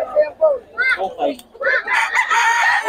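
Chickens cluck in short bursts nearby at a Bocaue market, building into a rooster's drawn-out crow toward the end, loud and close.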